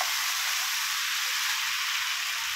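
Spice paste sautéed with shrimp and kochur loti (taro stolon) in a hot pan, a steady loud dense sizzle holding evenly throughout, close up with no talk.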